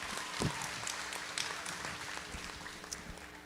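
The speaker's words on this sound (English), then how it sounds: "Let's give them a round of applause." Scattered applause from a small crowd at a goat show, fairly faint and distant, with sporadic claps across a few seconds and no talking.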